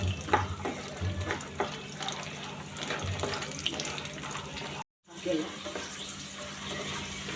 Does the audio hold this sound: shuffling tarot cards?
no